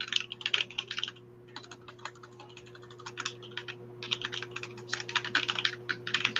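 Fast, furious typing on a computer keyboard: dense bursts of crisp key clicks with brief pauses between runs, close up under a steady low hum and with no talking.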